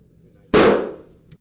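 A single gunshot rings out inside a police station, caught on surveillance footage: one sharp, loud crack followed by a short decaying echo, with a faint bump just after.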